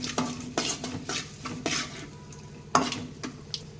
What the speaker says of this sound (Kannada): ಈಗ ಗೋಡಂಬಿ ಫ್ರೈ ಆಗಿದೆ.